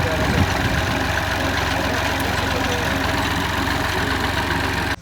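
An old, ailing tractor idles at a fish farm, a steady dense rumble that holds unbroken and loud for the whole stretch before cutting off abruptly at the end.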